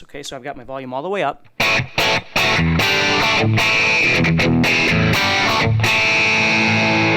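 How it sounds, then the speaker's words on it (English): Distorted electric guitar chords played with the volume turned all the way up, loud and sustained with sharp strummed attacks after a brief spoken introduction. "that sound you're hearing is what we refer to as distortion or overdrive or gain"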